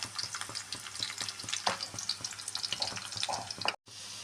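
Garlic and ginger fry in a pan with a busy, fairly quiet crackle and rhythmic stirring taps throughout, ending in a brief silent gap.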